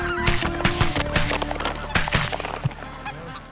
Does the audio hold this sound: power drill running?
no